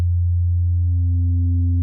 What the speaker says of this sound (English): If I increase this by a couple and I introduce a additional harmonic,